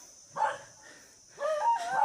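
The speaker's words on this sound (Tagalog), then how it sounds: "Parang may kinakahol yung aso mga lods na mga tao, no?" A dog barks twice at a distance, two short bursts separated by a pause, the second rougher and longer, over a quiet background.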